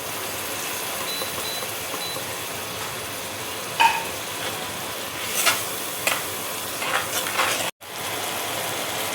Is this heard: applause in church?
no